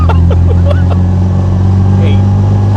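A 1959 MG MGA 1600 engine with a supercharger drones steadily at close range, loud and constant with a low hum and faint whine, while people talk over it in the cabin.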